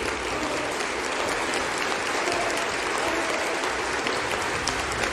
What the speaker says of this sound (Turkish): Kızgın alkışlar içinde sahneye çıkan